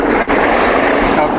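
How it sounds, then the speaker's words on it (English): A motorcycle passes nearby with a loud, steady broadband engine roar that fills the whole moment, with a brief dip near the start. "Let's wait for that nice motorcycle to pass."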